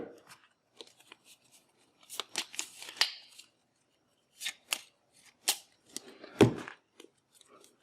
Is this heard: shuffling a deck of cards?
yes